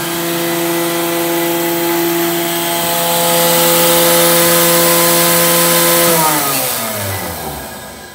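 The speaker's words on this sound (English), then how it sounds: "and then you've got edge trimmer, which is pretty noisy" Edge trimmer on a BJF-115 edgebander running loud and close, a steady high motor whine with strong tonal hum that swells, then spins down toward the end.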